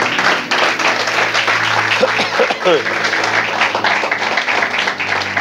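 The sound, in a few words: audience applauding loudly in church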